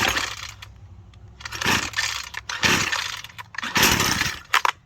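A Husqvarna 122C trimmer engine sputters and fires after an easy pull start on the choke. Several loud, ragged bursts of small two-stroke popping come between quieter gaps. Close and without talk.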